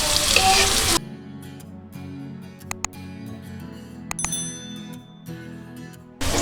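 Chopped onions frying in a pan, a low steady sizzle with a few sharp metallic clinks of a utensil against the pan, close by and without speech.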